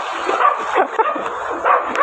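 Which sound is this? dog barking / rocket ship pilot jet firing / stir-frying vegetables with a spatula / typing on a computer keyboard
dog barking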